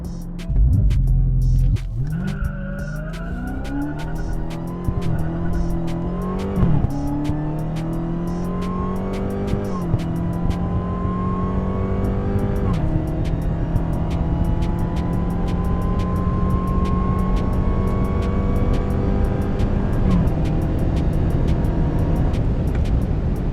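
A 2020 Dodge Charger Hellcat Widebody accelerates hard through a 0-130 mph run, its supercharged engine roaring loud and close as rising revs climb repeatedly through gear shifts, each brief dip followed by another long pull.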